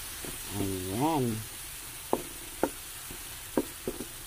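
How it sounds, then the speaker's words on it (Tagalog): Carrots simmer in a pot for a Visayan fried-fish escabeche, giving a steady soft bubbling hiss. A few sharp utensil knocks land near the end, and a voice briefly speaks over it. "Hayaan lang muna natin kumulo yan guys para maluto ang ating carrot"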